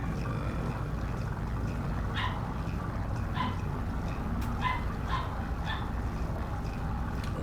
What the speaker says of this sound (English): my little dog is yapping